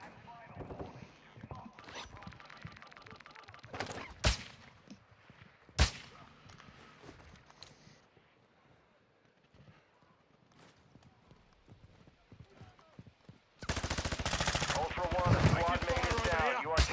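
Gunfire rattles through a military shooter video game mission: sharp single shots and short bursts with quieter gaps, then a loud, dense burst of heavy firing near the end, mixed with faint voices.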